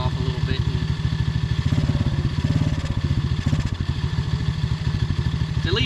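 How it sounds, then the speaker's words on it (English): A Chinese 110cc ATV engine idles in a steady, rapid low chugging pulse with some mechanical clatter, close by and fairly loud. "It's at least idling, so I'll take that."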